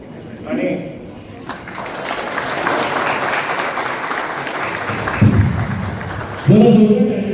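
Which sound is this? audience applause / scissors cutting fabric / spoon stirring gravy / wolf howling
audience applause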